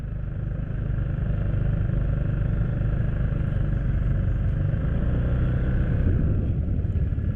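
An FKM MTX 150 CVT scooter engine drones steadily at close range while riding, a continuous motor rumble with rattly clatter and no voices.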